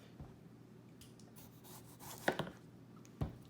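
A sharp Japanese chef knife cuts through tomatoes in a few soft, separate strokes, each a brief thud and slice, faint against a quiet room.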